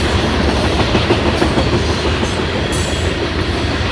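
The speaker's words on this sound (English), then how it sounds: "Sorry for the train." A train passes close by in a dense, steady rumble of wheels on rails, with rhythmic clatter filling the whole clip and no voices.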